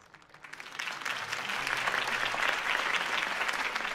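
A crowd in the Batman Telltale video game breaks into applause after a Harvey Dent campaign speech, swelling from a few claps into a dense, sustained ovation.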